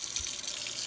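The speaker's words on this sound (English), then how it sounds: "So we're gonna turn on the water." A kitchen tap runs in a short, steady stream for hand washing, an even hiss without speech.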